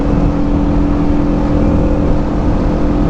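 Motorcycle engine humming steadily while cruising in fourth gear at about 42 mph, a loud, constant drone mixed with rushing wind noise, with no speech.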